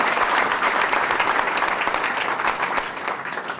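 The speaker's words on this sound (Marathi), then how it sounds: "कृपया एकदा जोरदार टाळ्या वाजवा." An audience at a stage show breaks into loud, sustained applause, dense clapping from many hands that stays strong and steady throughout.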